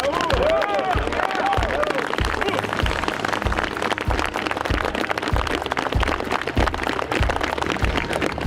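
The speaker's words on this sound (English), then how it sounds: "Clap, people." Audience applause at a Black Hawk Down 20th anniversary medal presentation, a dense, steady clatter of many hands filling the room, with a regular low thumping rhythm running beneath it.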